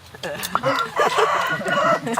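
Chickens cluck and squawk close by in a busy, overlapping flurry, with one bird crowing among them and a voice talking over the flock.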